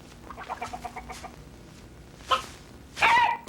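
Chickens cluck in a short series of soft calls, followed by a couple of louder squawks near the end, close and without talk.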